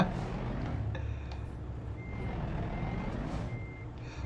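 A truck in American Truck Simulator backs up with steady, evenly spaced reversing beeps, moderately loud over a continuous low engine rumble and road noise.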